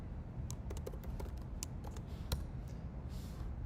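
Keystrokes on a computer keyboard as a command is typed into a blockchain terminal, a steady run of light clicks over about four seconds against a low hum, close and moderately quiet, with no talk.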